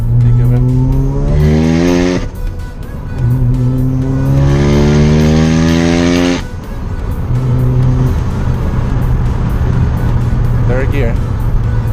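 A Mazda RX-7 FD with a rotary engine, apparently a four-rotor, accelerates hard in repeated pulls, its buzzing rev climbing each time between brief drops, loud and close, with voices beneath.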